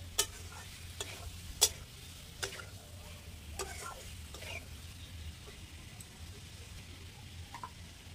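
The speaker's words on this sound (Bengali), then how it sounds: "এবার এই দুটো জিনিস দিয়ে এখন একটু কষাবো" Boiled potato and fried egg are stir-fried in a spice masala, a low quiet sizzle broken by scattered spatula taps and scrapes on the pan.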